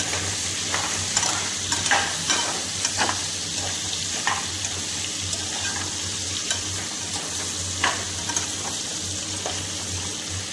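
Salt being stirred into talakaya curry in a pan, with a steady run of scraping spoon strokes over a low background hum and faint sizzle, no talking.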